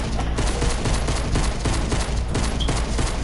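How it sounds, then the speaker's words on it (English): Rapid gunfire from Fortnite, a dense, loud burst of shots firing continuously and close up for several seconds, with no voices over it. "I like shooting people in the head"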